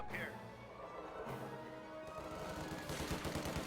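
Automatic BAR rifle fire from infantry riflemen in a World War II real-time strategy game, rapid bursts crackling over a busy battlefield mix, with a voice talking over it.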